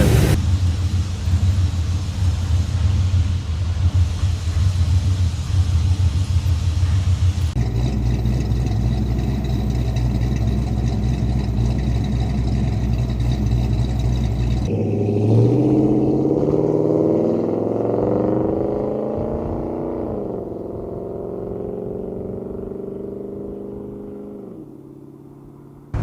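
A Ford Falcon wagon, a rebuilt high school project car, runs with a steady low engine rumble that shifts as it drives, the pitch rising and falling through gear changes, loud and close with no talk.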